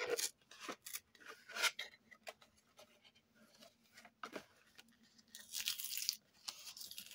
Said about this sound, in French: Donc cette boîte, on va l'ouvrir complètement.